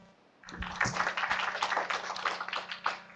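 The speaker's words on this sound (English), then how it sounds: "Let's give a round of applause to Jeremy, who has spoke from afar" Small audience at a digital rights and tech panel claps for a remote speaker, a short burst of scattered, fairly close hand claps that starts abruptly and continues at moderate level.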